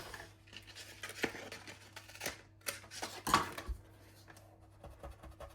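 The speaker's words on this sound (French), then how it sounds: "on termine avec les ciseaux" Scissors snip through paper while making a card, several quick, uneven cuts, close and crisp over a low steady hum.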